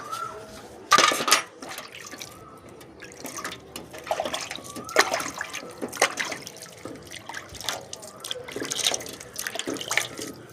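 Water splashes and trickles onto plants in a home garden, in irregular bursts of pouring and dripping with a louder gush near the start, close by and without talk.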